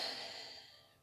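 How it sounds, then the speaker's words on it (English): A single slow exhale of breath, close and soft, fading gradually to quiet. "and then whenever you breathe out"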